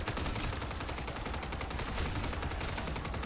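A SUPERI 46 submachine gun fires in MW3 Zombies, a rapid continuous burst of automatic shots with even rhythm, loud and sustained throughout.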